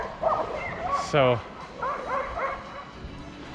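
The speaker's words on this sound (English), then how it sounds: "wow, dog fight." Street dogs in Albania fighting, with sharp yips, barks and whimpering yelps in quick bursts, one loud close yelp standing out, while a voice speaks briefly.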